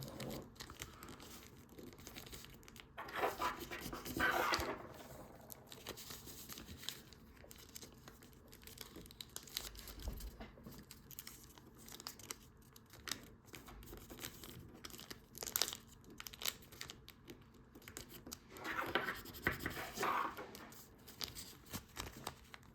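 Paper being folded into an origami jet, with soft crinkling and creasing rustles in two brief bursts separated by quieter handling noise, close and faint.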